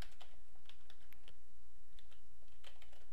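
Code is typed on a computer keyboard in short irregular bursts of light, quiet keystroke clicks with brief pauses between them.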